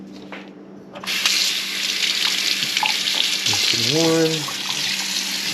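Warm water gushes from a kitchen tap while pizza dough is being prepared, starting abruptly after a second of quiet and then pouring steadily and loudly, with a brief spoken word and a short vocal sound partway through.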